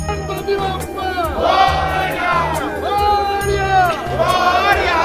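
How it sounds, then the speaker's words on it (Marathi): Large crowd packed around the Kasba Ganpati idol during the Pune Ganesh visarjan procession, loud continuous hubbub of shouting voices over a steady repeating drum beat, close and dense throughout. "इथे तुम्ही बघू शकता गणपतीच्या आजूबाजूने किती गर्दी जमली"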